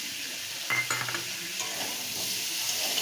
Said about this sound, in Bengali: কাঁচা লঙ্কাটা দিয়ে একটু নেড়ে মিশিয়ে নেব ভালো করে।